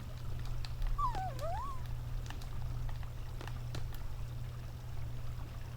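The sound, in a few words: small dog whimpering in Final Fantasy VIII video game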